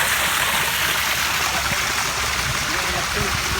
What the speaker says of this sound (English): a 180-degree water flow all the way around the waterfall too